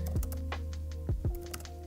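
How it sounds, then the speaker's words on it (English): Keys tapped on an iPad Pro Magic Keyboard, a handful of crisp close clicks spaced irregularly over a steady low background hum, with no voices. "The typing experience is exactly the same, if not better, especially with this magic keyboard that I'm using for the iPad Pro."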